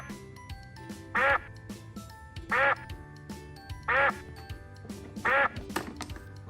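A toy duck quacks four times at even intervals, each a loud nasal burst, over a bright background melody.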